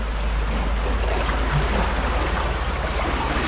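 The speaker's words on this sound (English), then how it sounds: "You can see here I'm emptying the lock." Water swirls and rushes as a canal lock on the Leicester Line empties through one open lower-gate paddle, a steady churning wash close by with no voices.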